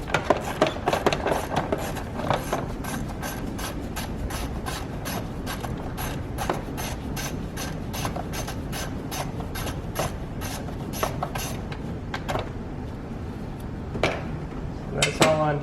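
A hand ratchet clicks rapidly and steadily in long runs while backing bolts out of a 1.3-litre three-cylinder Mitsubishi Mirage engine during spark plug work, close and fairly loud, with brief pauses between runs.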